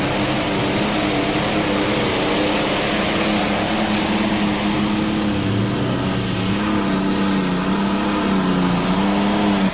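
A USHRA pro stock pulling tractor roars loud and continuous through a pull-off at Bowling Green, Ohio in 1997, a heavy sustained engine drone with shifting pitch and no break.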